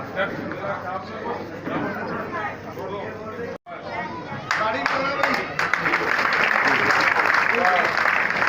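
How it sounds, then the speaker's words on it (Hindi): A crowd at a farmers' conference in Chhattisgarh claps to welcome farmer leader Rakesh Tikait, applause swelling and growing louder after a brief cut, mixed with chatter and talk from the gathering. "हमारे राकेश के लिए जोरदार तालियां हम स्वागत करें"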